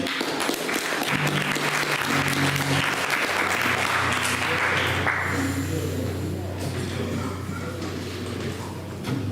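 Audience applause at a music evening, dense and loud throughout, with some overlapping voices and a low sustained tone beneath the clapping.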